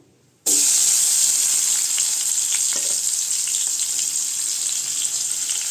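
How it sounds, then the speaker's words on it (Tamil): After a short silence, tomatoes go into hot oil in a pan with a sudden loud hiss that settles into a continuous bright sizzle, with a few faint clinks of utensils. "இப்போ அதே பாத்திரத்தில் கொஞ்சம் எண்ணெய் சேர்த்துக்கிட்டேங்க. தக்காளி சேர்த்துக்கலாம்."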